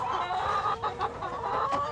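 Farm chickens cluck softly and repeatedly nearby, a few short clucks rising over a quiet background.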